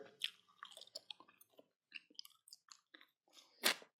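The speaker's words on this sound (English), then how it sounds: "Person loudly chewing gum here." Someone chews gum loudly and wetly, with a quick string of irregular smacks and clicks near the mic and a sharper crunchy burst toward the end, no talking.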